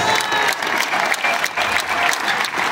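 Loud, dense applause fills the Lienzo Charro Adolfo López Mateos in Ciudad Juárez as the crowd greets the juvenile caporalas, a close, continuous crackle of many hands with no pauses.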